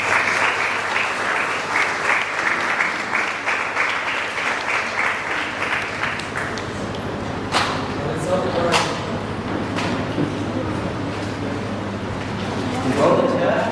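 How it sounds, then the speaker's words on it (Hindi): Audience at a Methodist church youth program in Pakur claps to welcome a pastor, steady dense applause for about seven seconds that thins into scattered claps and room noise. "ताली बजाकर हम स्वागत करेंगे।"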